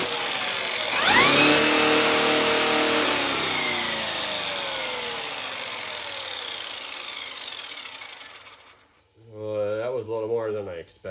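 Traxxas XMAXX RC truck converted to 12S with an 800 kV motor, its electric motor winding up to a loud, high whine at full throttle that slowly fades and cuts off, followed by someone speaking.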